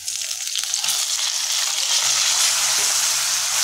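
Raw onion, tomato and ginger paste hits a pan of half-fried potatoes and plantain, giving a loud, continuous hiss of sizzling oil with faint stirring underneath, close up and without talk.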